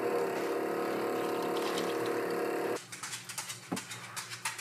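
A protein and glutamine drink is stirred in a cup, first as a steady whirring blend, then as a series of quick clinking, scraping spoon strokes after the noise cuts off.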